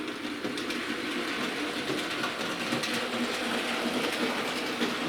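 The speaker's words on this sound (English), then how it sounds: "I can bring out the other loco that's sitting there." A model railway locomotive, a Jubilee class, runs along the track with a steady, even rolling rumble and faint clicking, close and unbroken.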